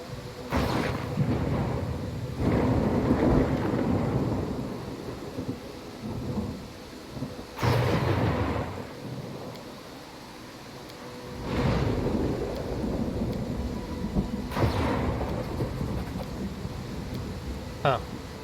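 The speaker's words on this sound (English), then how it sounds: "Why did the storm get all bad?" Thunderstorm with heavy rain in the video game Pathfinder: Kingmaker, steady loud rainfall broken by several deep rolling thunderclaps spread across the clip, with no voices over it.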